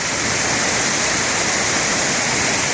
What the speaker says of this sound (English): So Battle Creek Falls, I mean, that's pretty tall.